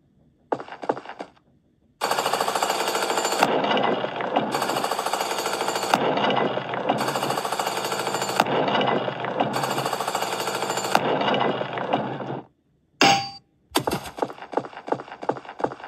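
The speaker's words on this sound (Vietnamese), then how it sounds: "Đây là một máy khoan." A drill hammers in the video game Troll Quest, loud rapid mechanical bursts repeating in long stretches with short breaks, then a few shorter bursts at the end.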